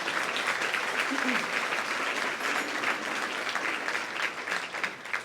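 An audience at a brunch event breaks into steady, enthusiastic applause, many hands clapping at once throughout.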